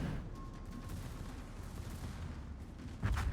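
A naval gun salvo in the World of Warships video game: deep, rumbling booms blend into a continuous roll of gunfire, then swell into a louder burst near the end, with no voices.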